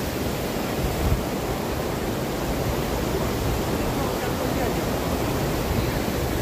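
Waterfall on the Amarnath Yatra route near Baltal pouring down into a valley, a steady broadband rush that stays constant and fairly loud throughout with no voices.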